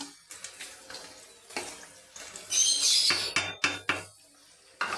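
A spoon scrapes and clinks against a metal pot while chana dal khichuri is stirred over a low gas flame, in irregular close strokes with short pauses between them.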